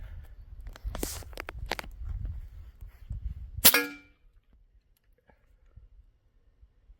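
An AEA HP Max .357 airgun fires a 182 grain slug: one sharp, loud crack near the end of some quiet handling clatter, followed by silence.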